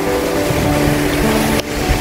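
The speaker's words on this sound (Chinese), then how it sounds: "这个叫闽海山东西瀑布啊" Mingshan East Creek waterfall in Maolin District, Kaohsiung, a mountain stream falling through a gorge, gives a steady, loud, close rushing roar of water with no other sound.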